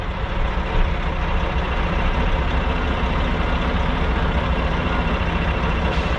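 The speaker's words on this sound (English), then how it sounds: "I love watching those compactors out there." Heavy landfill trash compactors working out on the site, a dense continuous diesel engine rumble with steady broadband noise, heard from a distance without pause and no talking.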